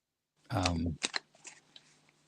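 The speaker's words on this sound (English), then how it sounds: "I'm shuffling the cards now" A deck of cards is shuffled nearby with a quick riffling burst, followed by softer taps and rustles as the cards settle. The room is otherwise quiet.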